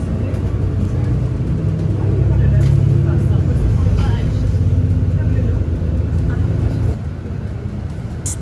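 A hop-on hop-off tour bus travels through Singapore, a steady low engine rumble heard from on board that eases slightly near the end, with people talking over it.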